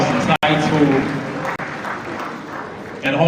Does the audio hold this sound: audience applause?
yes